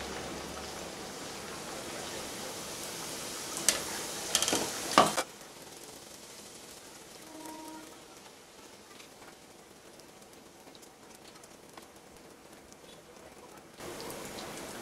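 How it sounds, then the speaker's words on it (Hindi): Puris frying in hot oil over a low flame for sweet dahi puri, with a steady soft sizzle and a few louder crackles and clatters near the start, then a quieter, even bubbling. "तो मैंने तेल गरम करने के लिए रख दिया था, अब मैं इसमें पूरियां फ्राई करूँगी।"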